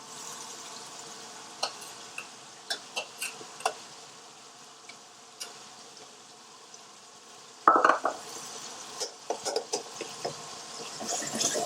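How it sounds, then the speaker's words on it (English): A spoon stirs king prawn dhansak curry in a pan, soft scrapes and occasional clinks against the metal over a low simmering sizzle, with a louder burst of stirring partway through, close and without talk. "Stir that in."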